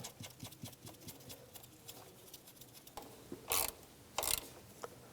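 Wrench tightening a nut on the knock sensor of a 2006-2011 Cadillac DTS engine, a quiet run of rapid ratcheting clicks followed by two louder brief metallic rasps, close and faint.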